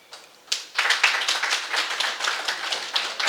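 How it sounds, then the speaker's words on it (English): A group of people claps by hand in a meeting room, a dense, steady run of close claps starting with a sharp burst and carrying on evenly for several seconds. "Another hand clap."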